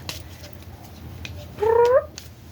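A single cat meows once, loud and close, a short rising-and-falling cry over quiet room noise.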